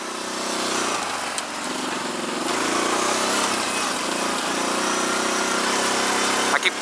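A new quad bike's engine drones loudly and steadily during a ride, a constant buzzing roar heard up close and alone from start to finish.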